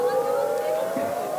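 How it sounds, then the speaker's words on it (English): A wailing siren sounds steadily and loudly, its tone holding with slight wavering and no pauses. "Here we have sirens"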